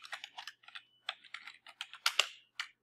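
Typing on a computer keyboard at close range, quick clusters of light key clicks in short bursts with brief pauses, no talk.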